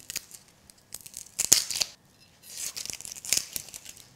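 A red onion being peeled by hand in a kitchen after its root end is trimmed: close, crisp tearing and crinkling of papery skin in short bursts with brief pauses, no voices.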